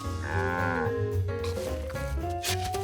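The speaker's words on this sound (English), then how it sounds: "A cow." Cartoon cow gives a long, loud, tonal moo up close, followed by shorter lowing notes in a children's animated baseball scene.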